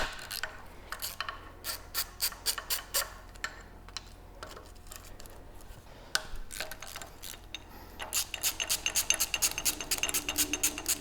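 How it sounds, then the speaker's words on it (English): A ratchet works loose the alternator bracket on a Toyota Land Cruiser 1FZ-FE engine, giving runs of rapid close clicks in bursts with pauses and a denser, faster stretch at the end. "And then we can just go ahead and pop the alternator bracket off."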